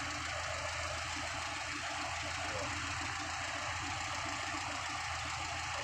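A Volkswagen Beetle engine idling at a harbor, a steady low rumble with a fine rhythmic pulse, continuous and moderately near.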